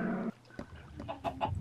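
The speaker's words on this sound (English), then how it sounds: "There's a black chicken on my roof." A black chicken in the Minecraft video game clucks in a few short, soft bursts, quiet and close with no talking over it.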